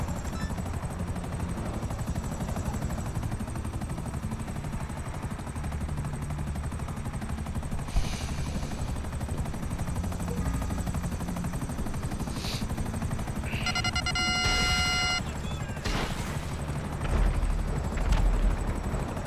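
A helicopter in GTA Online drones steadily throughout, its rotor and engine noise loud and continuous, with a few brief sharp bursts like gunfire near the end.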